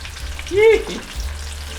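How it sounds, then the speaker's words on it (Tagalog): Garlic hits a little hot cooking oil in a pan and sizzles briefly, a short burst of frying crackle that swells then fades into a quiet background hiss. "Tapos lagyan natin ng bawang."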